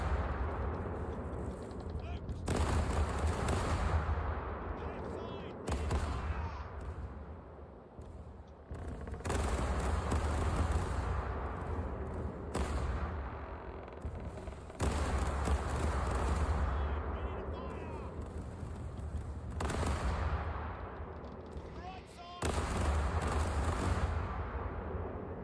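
Repeated booming cannon fire from the video game Caribbean Legend, with loud broadband bursts in quick volleys that recur every few seconds, each followed by a short decaying rumble.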